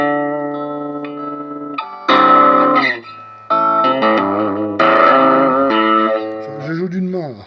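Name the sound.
electric guitar through Vox Pathfinder 10 amp, boost, gain maxed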